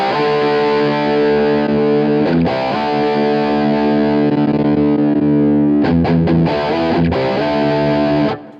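Electric guitar through a Rev Gen Red preamp into a single-ended EL84 power amp section, crunchy distorted chords ringing out with a few rhythmic restrikes, loud and steady, no talk.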